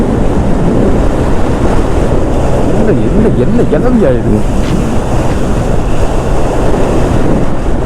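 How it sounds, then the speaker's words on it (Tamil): Strong gusty wind roars steadily into the microphone on a hilltop trekking spot near Pollachi, a loud continuous rumble with a person speaking briefly over it. "ஆனால் காற்று தாங்க, சூறை காற்று அடிக்கிறது"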